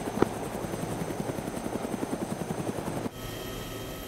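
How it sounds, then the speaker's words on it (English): A video game helicopter's rotor thumps in a steady fast rhythm with a droning engine whine, loud and close, shifting in tone near the end as if the view moves inside the cabin. "Get to the chopper!"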